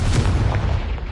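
An explosive Confringo spell bursts in Hogwarts Legacy, a single heavy boom with a rumbling low tail fading over about a second.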